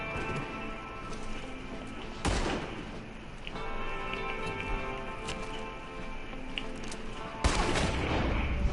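Gunfire in a Red Dead Redemption 2 shootout at a cabin, with two sharp, loud shots standing out over a steady game soundscape of hums and ambient noise; the shots are spaced several seconds apart.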